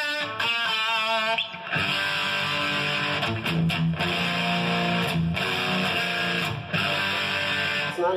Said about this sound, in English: Huge distortion, but it's loud enough for you.